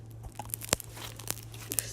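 Crunchy slime flecked with pink glitter is squeezed by hand, giving quiet, scattered crackles and sharp little crunching snaps over a steady low hum, with no voices.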